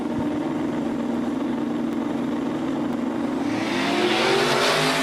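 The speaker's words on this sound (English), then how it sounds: "Side by side off the line, Dirty Bird trying to hold off the Chevelle" Two drag cars, a Chevelle and the Dirty Bird, launch side by side at a strip race, heard as a steady roar of distant engines that rises and brightens toward the end as they pull away.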